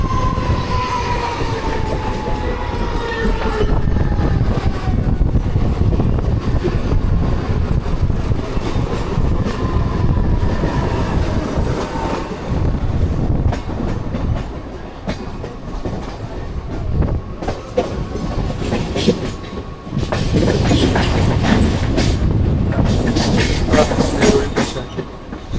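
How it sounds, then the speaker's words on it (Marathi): A passenger train bound for Mumbai CST rolls past near Nerul in Navi Mumbai, a loud, steady rumble with rhythmic clickety-clack of wheels on rails and brief metallic squeals, continuous for the whole stretch with no talk. "जे पुढून एंट्री झाली आहे ट्रेनची, ती मुंबई CST ला जाण्यासाठी"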